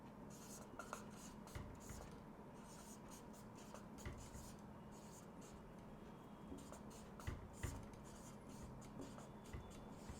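Someone writes out an equation, probably chalk or pen scratching and tapping in soft, irregular strokes against a quiet room hum, with no talking.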